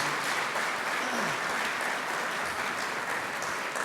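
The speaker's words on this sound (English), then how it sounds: "Let's give him a round of applause." Audience applause at a book talk at the Nixon Library, a dense steady wash of clapping filling the room for about four seconds, with a faint voice briefly audible beneath it.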